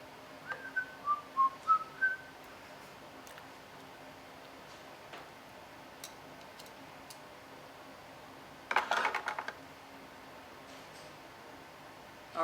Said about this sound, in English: Or maybe I like to whistle while I work.